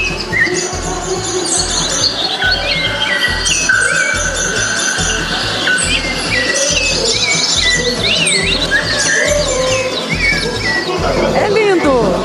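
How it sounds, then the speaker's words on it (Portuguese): At a Portela samba school carnival parade, sabiá thrush song plays loudly through loudspeakers on a float: continuous warbling, whistled phrases ride over a steady, thumping low drum pulse and crowd noise. "o canto do sabiá."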